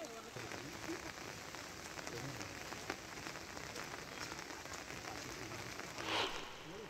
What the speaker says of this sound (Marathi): रत्नागिरी जिल्ह्यात सकाळपासूनच धुवाधार पावसाला सुरुवात झालेली आहे।